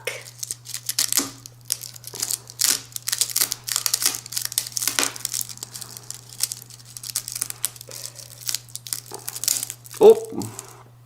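A dried rattlesnake rattle is pulled and torn apart by hand, giving brittle crinkling, crackling and small snapping sounds in irregular bursts close to the microphone, with a steady low hum beneath and people talking.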